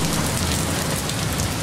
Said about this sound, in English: It started to rain, so I had to stop what I was doing to go outside and get some of those shots.